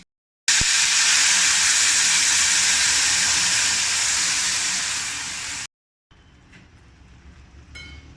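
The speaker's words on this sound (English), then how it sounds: "I'm now going to add all the tomatoes into the tadka" Fresh tomatoes tipped into a hot oil tadka with curry leaves burst into a loud, steady sizzle that carries on for about five seconds and slowly fades, then a quieter crackle with faint clatter follows after a brief cut.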